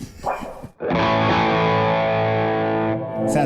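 Electric guitar played through a Keeley Filaments high-gain distortion pedal: a short picked lick, then a loud, dirty sustained chord ringing for about two seconds before cutting off.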